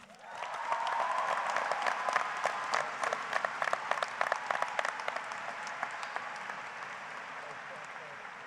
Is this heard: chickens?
no